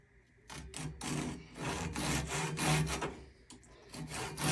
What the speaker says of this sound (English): If you don't have one of these Japanese pole saws, I'm going to tell you right now, you need to invest in one of them.